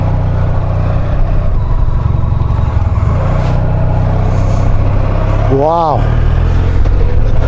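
An off-road vehicle with sand on its tyres, in manual with the handbrake off, crawls over an obstacle. A steady, close engine drone runs throughout, and a voice gives a brief exclamation partway through.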